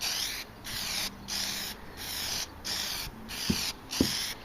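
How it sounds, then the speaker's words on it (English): An aerosol can of Plasti Dip rubber coating sprays onto a Toyota Tundra in a series of short hissing bursts, evenly spaced, close and loud, with a couple of soft clicks near the end. "Just get it on there and start spraying away, even strokes"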